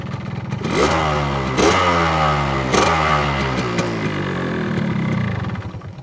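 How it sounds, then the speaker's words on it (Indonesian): A restored Yamaha RX King two-stroke motorcycle engine revs close and loud, with several sharp throttle blips rising and dropping in pitch over a raspy idle. "langsung nyala motornya ternyata kita lihat saja tuh guys bisa didengar kerennya"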